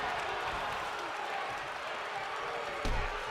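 An arena crowd in the wrestling video game WWE 2K24 keeps up a steady roar of cheering. A brief thud near the end could be a body hitting the mat.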